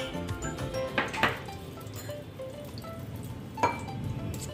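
Roasted makhana (fox nuts) tipped from a pan into a bowl, giving a few light clinks and rattles at moments over a steady low kitchen background, with no talking.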